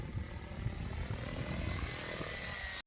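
Radio-controlled model helicopter finishing an autorotation landing in light wind: a steady, fairly loud rotor whoosh and buzzing drone holds evenly throughout, then cuts off abruptly at the end.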